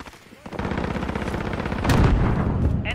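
Rapid automatic gunfire in a Call of Duty: Modern Warfare team deathmatch, a loud close burst of fast shots that swells midway, with a game voice speaking briefly.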